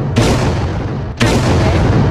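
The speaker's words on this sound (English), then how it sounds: "It's really hard to use the cannon," Cannon fire in Roblox Attack on Titan, two loud booming shots about a second apart, each followed by a long rumbling decay.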